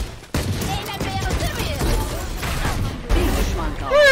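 Bursts of rapid gunfire ring out in a tournament match of the shooter game Valorant, loud and close, with excited voices talking over the shots.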